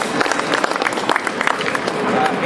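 Crowd applause at an outdoor Queens Flag Day ceremony, a burst of scattered hand clapping from many people, moderately close and continuing for a couple of seconds while voices murmur.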